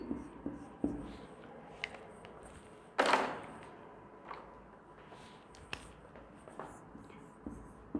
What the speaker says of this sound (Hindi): एक सेंटेंस यहाँ मैं लिख रही हूँ